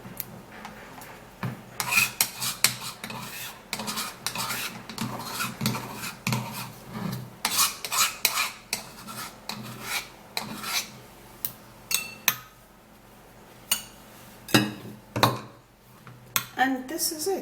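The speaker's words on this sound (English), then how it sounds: "after mashing the avocado, now we would have to be transferring that into this bowl" Mashed avocado being scraped and moved into a bowl with a utensil: a run of sharp scraping and clinking strokes against the dish, irregular and close, with brief pauses between.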